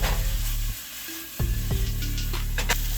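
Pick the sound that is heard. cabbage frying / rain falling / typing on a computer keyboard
cabbage frying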